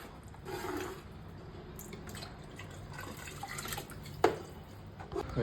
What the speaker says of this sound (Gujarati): હવે આપણે નાખશું પાણી.